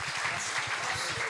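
A church congregation at a men's service in Jardim Embura, Santo Amaro, São Paulo bursts into dense, steady clapping that fills the room throughout the short stretch.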